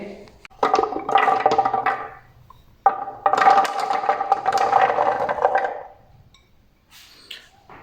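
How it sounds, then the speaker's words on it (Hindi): Falsa berries, about 300 grams, tumble into a jug in two rattling pours of a second or more each, close and fairly loud, with quiet pauses between and no talk. "300 ग्राम फ़ालसा हम जग के अंदर डालेंगे।"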